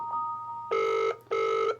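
Two short electronic ring bursts from a smartwatch receiving a phone call sound close by with a brief gap between them, clear and steady, with no talking.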